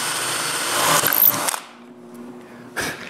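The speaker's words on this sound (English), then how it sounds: "I drill the holes to lock the last section in place" Power drill boring holes into a finished wooden tripod leg to lock its last section, a loud continuous whir for about a second and a half, then quiet with a short sharp tap near the end.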